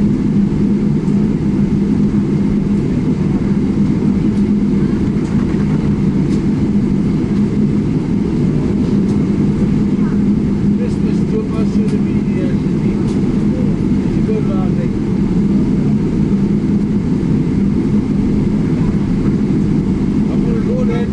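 From inside the cabin, the engines of a KLM Boeing 777-300ER rumble steadily as it lines up on runway 24 at Amsterdam Schiphol, a loud, continuous low drone.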